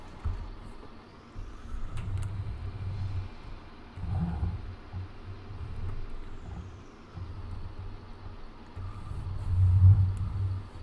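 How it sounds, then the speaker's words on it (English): Old pickup truck engine in Farming Simulator 19, a low steady rumble that swells and eases as it drives, with faint hissing above, no talking. "Jump in our old pickup truck."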